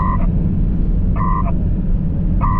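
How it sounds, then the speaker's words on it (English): Loud repeating two-tone electronic chirps from a Pactor radio modem signalling disconnection, short bursts about every 1.2 seconds over a steady low hum. "There's the disconnection signals."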